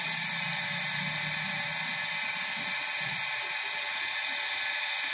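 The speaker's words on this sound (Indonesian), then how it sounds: "Kita hidupkan lagi pompa tangkinya." A small tank water pump in an urban farming setup runs steadily with a constant, even whine and hiss, with a low rumble and faint clatter near the start, no talking.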